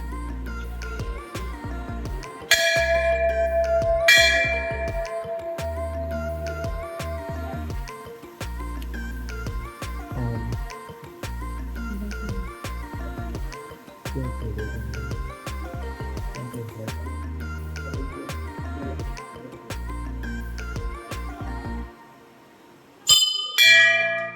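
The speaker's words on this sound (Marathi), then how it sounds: "घंटी वाजू चला" Temple bells ring at the Someshwar Shiva temple in Kondeshwar on a Monday, struck repeatedly in a steady, busy rhythm with bright metallic overtones that pause briefly before a final loud peal.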